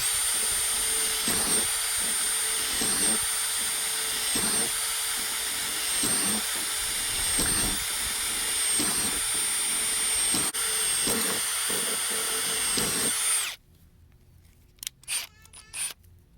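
A power drill bores vent holes in a panel for a cordless Ridgid welder project, a steady whining drone with periodic dips as each hole is cut, stopping abruptly near the end, followed by a few faint clicks and knocks.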